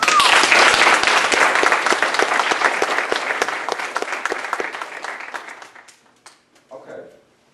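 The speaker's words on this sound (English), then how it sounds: "Please give our panel a round of applause." An audience applauds a panel at a university event on civil and human rights, dense clapping loud and sustained for about six seconds before thinning out and stopping, with a few voices at the very end.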